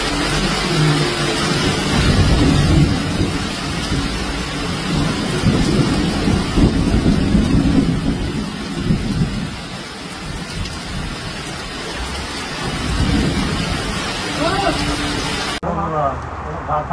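Heavy rain pours during a thunderstorm over a flooded road in Çayırova, Istanbul, a loud continuous roar with deep thunder rumbles and vehicle noise mixed in.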